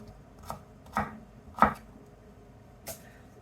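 A kitchen knife chops shallots on a cutting board in four distinct, close strikes at irregular intervals, with no talking.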